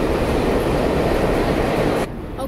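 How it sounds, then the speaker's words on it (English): A subway train in New York City roars past loudly and close, a dense continuous rumble and rattle that cuts off sharply near the end. "the trains are super loud"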